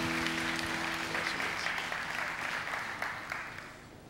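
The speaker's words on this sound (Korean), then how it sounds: "우리 큰 박수로 인사할 때 우리 축하해 주시기 바랍니다." A church congregation applauds the graduates of a one-to-one discipleship course, a dense, sustained wash of many clapping hands that starts full and slowly fades over four seconds, with a faint sustained tone underneath at first.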